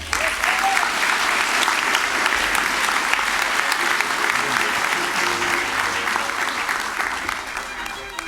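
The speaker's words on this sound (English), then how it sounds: "A big round of applause for our graduates." Dense, sustained applause from a large convocation audience for spring graduates, steady and loud for several seconds before gradually easing.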